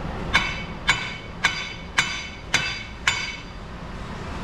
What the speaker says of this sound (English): Keep giving it some taps